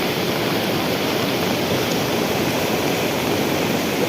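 A river in flood, swollen by three days of heavy monsoon rain, rushes past in a loud, steady, broadband roar that fills the whole clip with no voices.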